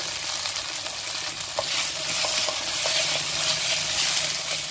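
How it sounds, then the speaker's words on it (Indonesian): Steady, close sizzling of spice paste frying in a pan for sate padang, with occasional soft scraping and stirring clicks and no talking. "Kita akan masak hingga bumbunya harum ya dan matang."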